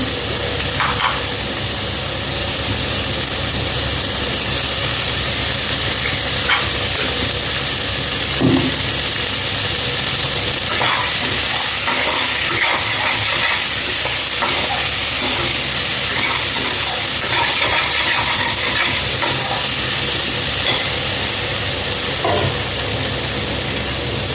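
Steady loud sizzling and hissing of a tempering for dal rasam frying in a hot pan, with occasional scraping and stirring clatter throughout.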